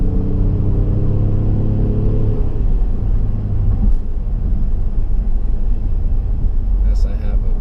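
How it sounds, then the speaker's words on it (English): Engine of a 2016 Ford Explorer Platinum SUV rumbling loudly while driving, a deep steady drone with a rising rev in the first few seconds, then a continuous interior hum. "This engine is amazing. It really makes this SUV scoot."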